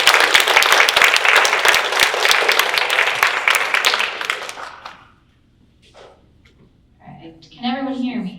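An audience at a Comal Conservation bats community program applauds with loud, dense clapping for about five seconds. The clapping then fades to near silence, and a voice follows.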